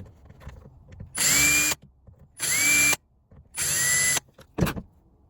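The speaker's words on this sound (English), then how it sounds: "I've just drilled that out as far as I dare" A power drill whirs in three short bursts separated by pauses, drilling out a part for an Amazon nozzle on a Blaster Surface Shield, with a few small clicks and knocks between them.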